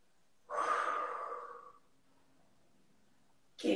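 A person takes a deep, audible breath during a mobility and stretching exercise, one long airy exhale trailing off, then a fresh breath starting at the end; close and otherwise quiet.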